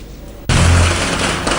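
Diwali firecrackers bursting in Delhi at night: after a brief quiet, a sudden loud close blast opens into a dense, sustained crackle of rapid overlapping pops with another surge near the end.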